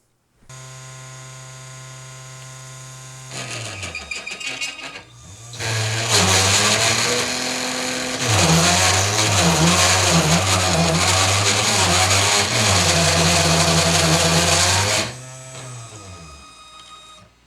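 A 3018 desktop CNC machine milling while pushed past the rigidity limit of its head, starting with a steady electronic whine, then breaking into loud, harsh chattering cutting noise that continues for about ten seconds before stopping abruptly.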